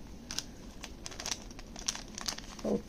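A plastic bag from a Pop Mart Space Concert figure set crinkles and rustles in short bursts during a toy unboxing, with a louder crunch near the end, close and fairly quiet.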